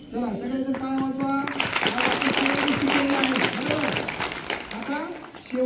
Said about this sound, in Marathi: चला सगळ्याजण टाळ्या वाजवा.